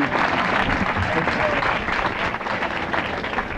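Audience applause at a religious talk, a dense, steady burst of many hands clapping that fills the whole stretch at close, even loudness, with no break and no voice over it.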